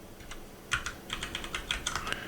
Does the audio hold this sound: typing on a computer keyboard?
yes